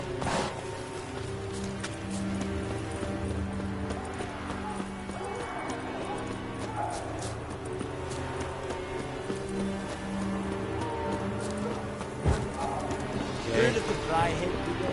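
Roach the horse's hooves clip-clop steadily at a gallop in The Witcher on PS4, a continuous rhythmic pounding with an occasional whinny, layered over game music and ambient sound while voices talk.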